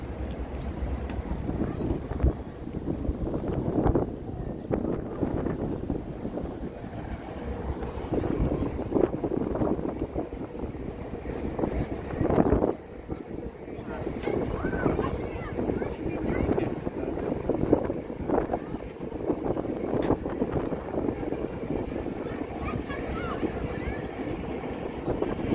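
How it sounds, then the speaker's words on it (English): Heavy wind buffets a handheld microphone on a walk by the river from Long Island City toward Williamsburg, New York: a constant roaring rumble throughout, with gusts swelling and dipping and faint voices buried underneath. "You have an idea how windy it is."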